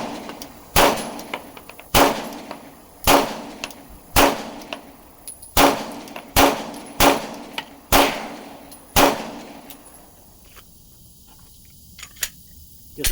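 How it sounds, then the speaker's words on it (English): A Glock 19x pistol fires nine sharp, loud shots at an uneven pace, each followed by a brief ringing decay, then a stretch of quiet with a faint click near the end. "I'm gonna shoot the last 40 rounds"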